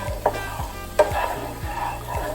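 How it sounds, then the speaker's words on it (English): Miso stirred into a pan of melted butter and olive oil as the base of a Japanese miso truffle butter pasta sauce: close, soft scraping strokes at a steady rhythm over a low, continuous simmering sizzle, with no talking. "stir. Let the miso slowly melt into that butter and olive oil mixture"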